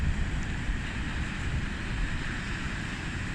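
Small sea waves wash onto the shore as a continuous, fairly loud, rushing hiss with a low rumble and no distinct breaks.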